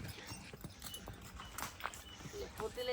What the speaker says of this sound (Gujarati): હે ગાય આઈ